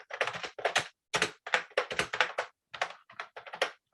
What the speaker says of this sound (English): Type in a subject and type the message.